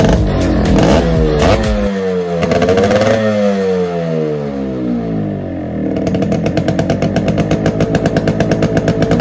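A loud motorcycle engine without its original silencer revs up and down repeatedly, then settles into a rapid, rough idle with a sharp popping exhaust rhythm.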